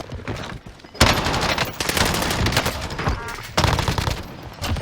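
Gunfire in the Warzone video game: dense, loud bursts of automatic weapon fire crackling almost continuously, with brief pauses between volleys.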